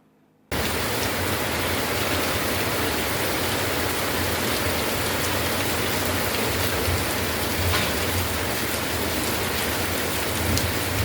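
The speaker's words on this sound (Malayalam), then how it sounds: "കൊല്ലം ജില്ലയുടെ വിവിധ പ്രദേശങ്ങളിൽ മഴ പെയ്തു." Steady, heavy rain pours down across Kollam district in southern Kerala, a dense continuous hiss of drops on surfaces that begins abruptly and holds loud and unbroken throughout, with no voices.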